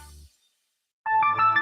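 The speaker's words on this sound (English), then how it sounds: "ensure your phone rings wherever you are" A business phone rings: after a short silence, a loud electronic ringtone begins with a steady bright trill, close and clear with no talk.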